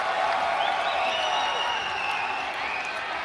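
A crowd at a Muay Thai bout between Rodtang and Gonsaves in a video game roars and cheers in a steady, dense wash with high whistles on top, a commentator's voice talking over it.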